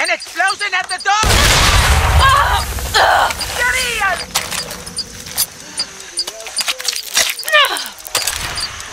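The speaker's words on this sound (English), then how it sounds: "An explosion at the door!" A door blows open in an explosion in Far Cry 6, sending a loud boom and a long crash of debris. Shouting game voices follow, with scattered impacts and clatter behind them.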